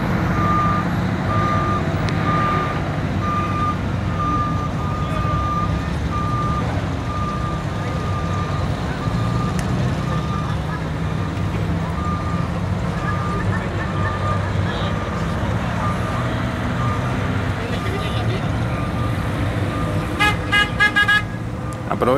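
A bus pulls in at a bus expo in Guadalajara, Mexico, with steady engine rumble, a repeating reversing beep throughout, and a short burst of horn toots near the end, amid crowd noise and talk.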